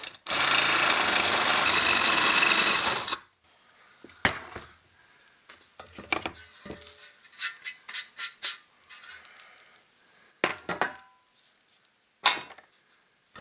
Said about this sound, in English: finally we're going to come back and drill it to 3/8, which is the size of the shank of our chassis punch